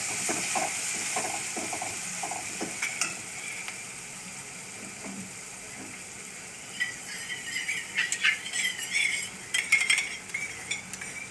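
Spiced rice with turmeric, coriander and garam masala is stirred in a pot, giving a run of scraping, clinking spoon strokes over a faint sizzle, sparse at first and then busier and louder toward the end.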